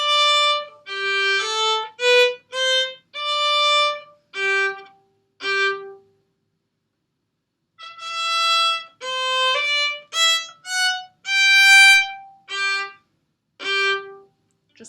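Violin in an advanced lesson, bowed with quicker strokes as a short run of separate, clear sustained notes, each starting and stopping cleanly. After a pause comes a second, similar phrase, close up and with no talking.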